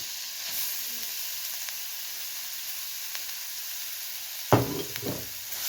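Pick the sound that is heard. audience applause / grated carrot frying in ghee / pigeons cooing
grated carrot frying in ghee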